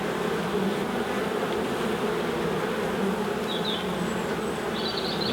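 Honey bees buzz steadily around a beehive on a calm, windless day during beekeeping, a dense continuous hum close by with a few brighter wingbeats passing near, no voices.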